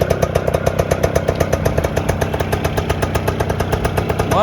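An Aprilia SR 125 two-stroke scooter engine running after a kick start, a close, loud, rapidly pulsing buzz with a steady, even idle rhythm throughout.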